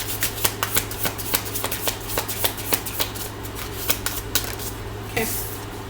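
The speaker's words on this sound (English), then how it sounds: "I kind of paused when I was shuffling because I saw this card" Tarot cards being shuffled by hand, a close, steady run of crisp riffling flicks that repeat rhythmically, ending in a softer slide.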